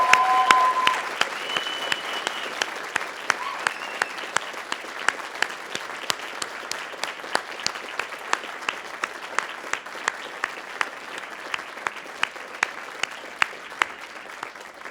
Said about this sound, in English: Now it is your turn to honor them with your cheers and applause.